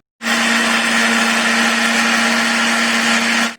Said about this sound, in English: Now we have placed all these spices in a mixer bowl. The next step is to grind these ingredients or these spices.